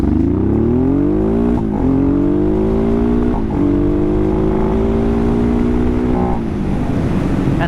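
A Honda Transalp converted to supermoto, stock gearing with a 17-inch rear wheel, revs hard against its CDI rev limiter, the engine note climbing and bouncing off the cutoff in several stuttering bursts, loud and close with no talk.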